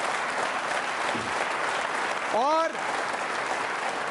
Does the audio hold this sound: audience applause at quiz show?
yes